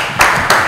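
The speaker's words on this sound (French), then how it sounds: "Bon, je vous prie d'applaudir." Audience applause at a live quiz game show in Lubumbashi, a short loud burst of clapping that swells twice in under a second.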